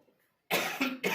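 A few harsh coughs burst out close to the microphone after a brief silence, two or three in quick succession, with no speech in between.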